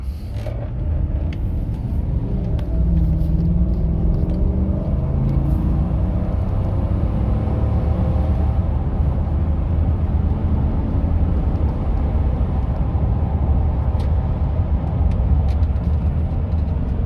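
A 2014 GMC Sierra 1500 Denali 4WD pickup accelerates hard under full throttle, its engine a loud, steady low rumble that builds with smooth gear shifts across the run, heard from inside without talk.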